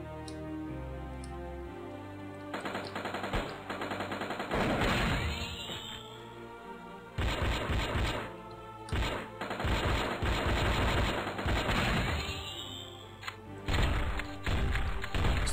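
Gunfire in the flash video game Strike Force Heroes, including shotgun blasts, comes as repeated clusters of sharp shots and rapid bursts over steady game music, with short pauses between volleys.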